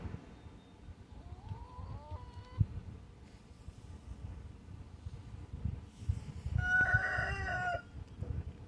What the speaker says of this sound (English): and there's a nosy chicken in there.